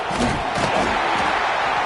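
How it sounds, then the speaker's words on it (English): Football stadium crowd roaring loudly at a Sooners game, a dense, steady wash of cheering and noise with no clear breaks, heard close and constant throughout. "This crowd bringing the energy and noise early."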